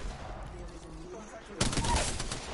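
Gunfire from a first-person battle royale video game cuts in suddenly as a dense, loud burst in the second half, after a stretch of quieter game noise.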